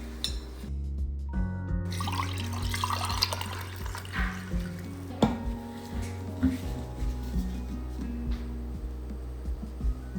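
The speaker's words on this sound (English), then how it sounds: "I'm gonna pour this extra coffee in here." Liquid pours and trickles into a container in short bursts, with light drips and clinks over a faint background.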